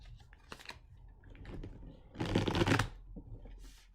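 Tarot cards shuffled by hand in a series of riffling bursts, with one long loud riffle in the middle and softer card flicks before and after, close up with no talking.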